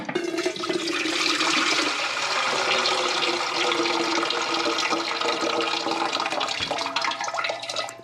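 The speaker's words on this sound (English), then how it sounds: "And all the water went down into my bucket." Water drains out of a toilet tank into a bucket after a Fluidmaster 400A flush valve is raised, a loud, continuous gurgling rush that tapers off near the end.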